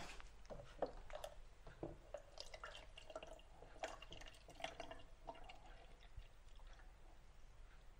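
Water trickles and drips quietly as a quarter litre is poured to mix a caustic soda etching solution for a circuit board. Scattered soft splashes sound against low background hiss.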